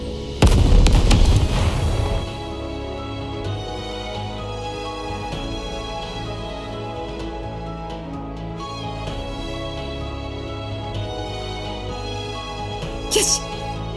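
Artillery cannon in the NIKKE video game fires a heavy boom with a long rumbling tail, then gives way to sustained music with a brief sharp burst near the end.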